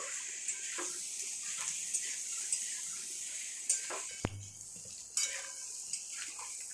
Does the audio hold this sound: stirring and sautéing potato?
yes